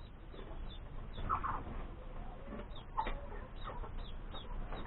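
Chicks hatched from an incubator, with turkeys nearby, cheep and cluck softly close by, with a few sharper peeps standing out over low steady background noise.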